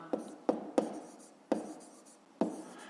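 A pen taps and scratches across paper in short separate strokes, five distinct quiet bursts during a maths exercise, close and isolated.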